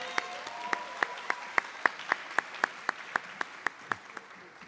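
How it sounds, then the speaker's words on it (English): Slow, evenly spaced rhythmic clapping from an audience at a high school senior honors ceremony, about fifteen distinct claps, moderately quiet over a faint room background. "One more round of applause, ladies and gentlemen."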